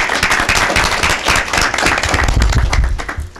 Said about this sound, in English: Let's give Shana a round of applause.